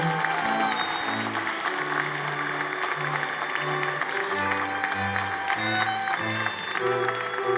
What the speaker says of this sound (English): Big hand of applause to our graduating class.